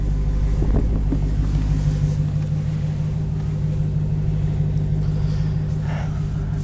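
A 2018 Dodge Charger Hellcat idles close by with a deep, steady rumble, its low throb holding even throughout with a slight swell near the start.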